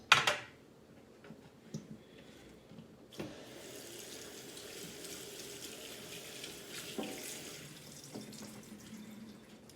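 Kitchen sink tap running over green peppers in a strainer, a steady moderate rush of water splashing after a brief knock at the start, continuing alone without talk.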